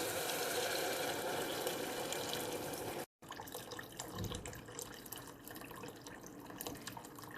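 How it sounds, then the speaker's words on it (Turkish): Water poured from a glass into a pot of sautéed spinach, onion and garlic for spinach soup, a steady close splashing stream with a brief break partway, then softer pouring; no talk. "Su koyuyorum üstüne."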